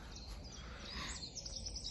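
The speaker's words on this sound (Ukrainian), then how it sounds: "в лісі, але пташки співають" Birds sing faintly in a forest beside a small pond, with soft chirps and tweets over a quiet background and no talking.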